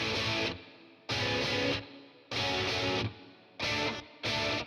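Real electric guitars layered with MIDI guitar sounds in a Logic Pro mix, a dense distorted chord pattern in five rhythmic bursts separated by brief decaying gaps, loud and alone.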